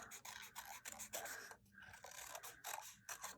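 Sharp craft scissors cutting a paper ice cream scoop shape from a pattern: quiet, close-up rapid snips and papery scraping strokes in uneven bursts with brief pauses, no talking.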